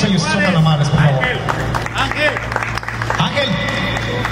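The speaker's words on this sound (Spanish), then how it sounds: "El aplauso para todos ellos, son tan amables, por favor." Applause and clapping from a crowd at a Spanish-language press conference for a quebradita dance event, a lively burst of hand claps mixed with cheers and crowd babble, with voices heard throughout.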